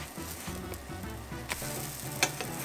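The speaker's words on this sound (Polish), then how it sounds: "Pancake'i smażymy 2-3 minutki z jednej strony." Almond flour pancakes frying in a pan give off a soft, steady sizzle, quiet and continuous, with a few faint clicks from the pan and no voices.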